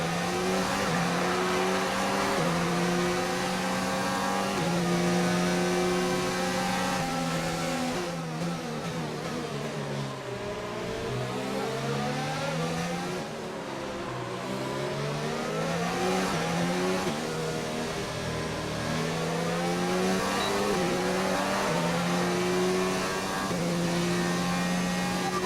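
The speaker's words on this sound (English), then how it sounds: "Don't wait too long to turn the engine down" An F1 2019 video game Formula 1 race car engine drones loud and close without pause, its pitch rising and falling through gear changes and revs, with no voices over it.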